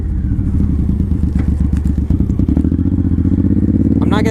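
A Suzuki Boulevard M109R motorcycle accelerates hard, its loud, close engine pounding with a rapid throbbing pulse that climbs in pitch, briefly dips as through a gear change, then pulls on strongly.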